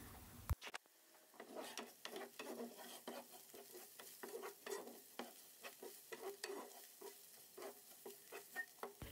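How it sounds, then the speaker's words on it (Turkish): Washed rice with salt being stirred and toasted in a pot, a steady run of scraping spoon strokes over a soft sizzle, close and fairly quiet, with no talking. "2 tatlı kaşığı tuz ekleyerek sürekli karıştırarak pirincim topak olana kadar kavuruyorum."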